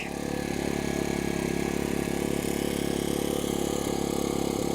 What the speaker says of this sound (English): Seems to be running smoothly. I haven't heard any hiccups from this thing yet. Just runs nice and smooth.